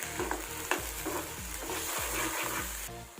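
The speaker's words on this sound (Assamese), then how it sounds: "আৰু ইয়াত অলপমান হালধি দি দিম আৰু অলপ সময় এই বস্তুখিনি মই ফ্ৰাই কৰি ৰাখিম যাতে পানীটো শুহি যায়" Fish pieces fry with turmeric in a pan, a close, bright sizzle broken by a quick run of regular scraping stirs, with no voices.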